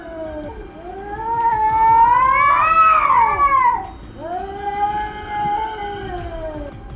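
Feral street cats in a standoff over a female, yowling in long, wavering, child-like wails that rise to a loud peak, dip, then resume at a steadier pitch, close and unaccompanied by talk.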